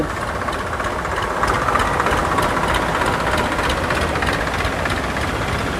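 A tractor engine ferries people through floodwater from the Daya river on the Pipili–Jatani road, giving a steady, close rumble mixed with a continuous broadband wash. No voices are heard.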